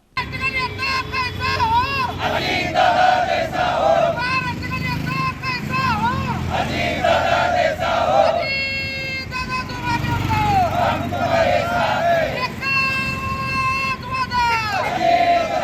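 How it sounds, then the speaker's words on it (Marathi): Party workers celebrating an NCP election win outside the party office in Solapur shout slogans together in loud, rhythmic bursts, with whistles and crowd noise mixed in and traffic in the background. "यावेळी घोषणांनी परिसर दणाणून गेला होता"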